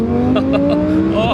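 A 2017 Audi R8 V10 Plus fitted with a Sheepey Race Stage 1 twin-turbo kit accelerates hard from inside the cabin, its engine note climbing smoothly in a loud, steady rising drone, with voices talking briefly over it.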